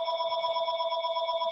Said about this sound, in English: my phone's ringing in the background